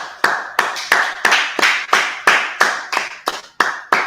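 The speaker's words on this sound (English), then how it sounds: "Clap it up." A congregation at a Sabbath service claps in a steady rhythm, about eleven sharp, loud hand claps spaced roughly a third of a second apart, with no talking over them.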